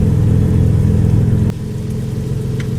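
A BMW M4 G82 Competition (2022) engine in Euro Truck Simulator 2 hums loudly at steady revs, then drops abruptly to a lower, quieter idle-like drone.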